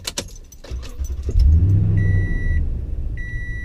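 A Toyota Tundra engine with an aftermarket BAmuffler exhaust cranks with a few clicks, then catches and settles into a deep, throaty idle; steady beeping chimes sound partway through.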